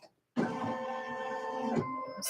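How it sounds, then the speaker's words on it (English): Serger sewing machine running in a home craft studio, a steady whirring buzz that starts abruptly, holds for about a second and a half and stops, close by and moderately loud. "Serging away."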